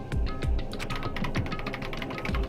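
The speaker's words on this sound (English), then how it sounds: "I started hitting random buttons on the keyboard" Rapid, irregular clatter of keys being struck on a laptop keyboard in the Danganronpa video game, dense continuous typing with a few heavier thumps, close and fairly loud.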